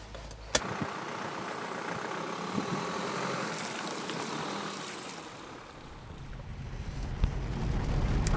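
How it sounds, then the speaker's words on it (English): A BMW 5 Series Touring with a 2-litre four-cylinder turbocharged diesel is on the move, heard as a low, muted engine drone and road rumble from inside a quiet cabin, swelling slightly toward the end. "Under the bonnet is a 2-litre 4-cylinder turbocharged diesel"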